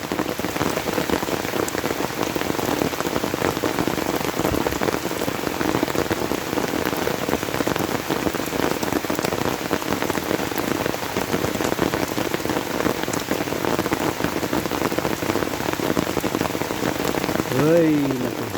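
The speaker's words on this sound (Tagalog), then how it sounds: "Lakas ng ulan." Heavy rain pours steadily on a rural province road, a dense, loud, unbroken hiss with drops drumming on surfaces close by throughout.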